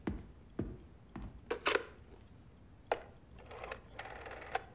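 Someone dials a telephone to place a call, producing a string of quiet, irregular clicks and short whirring bursts separated by gaps, with no speech over it.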